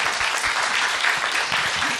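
Steady audience applause at a film event with two directors, many hands clapping together in a thick, continuous patter that holds level from start to finish.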